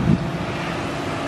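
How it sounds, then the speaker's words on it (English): Wind blowing across an outdoor area at Disney's Pop Century Resort, a steady low rumbling buffet against the microphone with a brief louder gust at the start. "Oh, it's getting windy."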